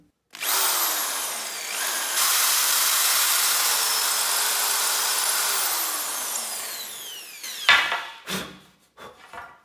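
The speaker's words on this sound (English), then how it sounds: "let's just drill through this existing hole all the way through" A power drill whines steadily through a wooden rake handle for several seconds, loud and close, then stops, followed by a few clattering knocks and handling sounds.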